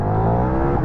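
A 1390 motorcycle accelerates hard in a brief, loud, close engine roar. Dense layered harmonics hold steady without pause.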